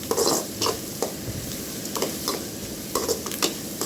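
Crushed dried chillies sauté with onions in a pan for bitter gourd poriyal, giving a continuous soft sizzle broken by scattered scraping stirs and light utensil taps, close by and without voices.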